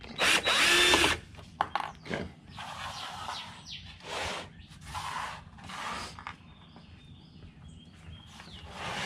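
Power drill driving small screws during a ribbon cable replacement repair, several short whirring bursts separated by pauses, the loudest near the start, with faint handling noise between.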